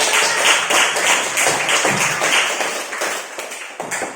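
A class of students applauding together in a classroom, loud dense clapping that keeps going steadily throughout.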